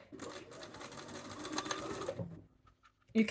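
A sewing machine runs a basting stitch along the inside of a cuffed sleeve within the seam allowance, a steady close whir for about two seconds that stops, followed by a brief soft knock.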